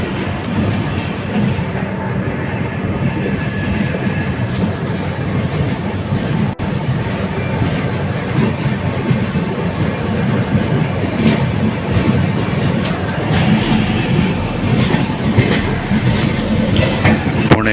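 A Pune–Amravati passenger train runs on the rails near Ahmednagar station, with a loud, steady rumble and rhythmic wheel clatter throughout and no talk.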